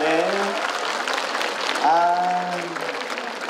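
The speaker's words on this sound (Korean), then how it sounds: "여러분 박수 한번 더 크게 보내주십시오" An audience claps at an arts festival in Daejeon to honor an elderly teacher. The applause is dense and moderately loud, while a voice calls out and speaks over it.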